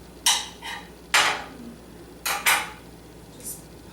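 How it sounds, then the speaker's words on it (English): Hard-boiled egg yolks popped out of sliced egg halves for deviled eggs, heard as five brief, close clinks and taps of utensils against a dish in a quiet kitchen, with a fainter tap near the end. "And you're just going to pop the yolk out."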